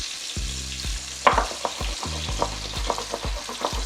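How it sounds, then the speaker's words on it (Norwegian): Food frying in a pan while it is stirred, with loud close sizzling and repeated scrapes of a utensil against the pan in a steady stirring rhythm, no voices. "Blander det litt lett rundt."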